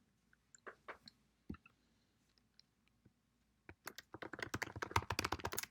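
Keys on a computer keyboard being typed: a few scattered taps at first, then a dense, rapid burst of clicking keystrokes close by, with no talking.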